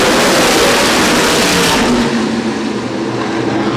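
USAC sprint cars roar around Winchester Speedway in a loud, continuous engine wail, dense and close through the first half before easing slightly into a steadier drone.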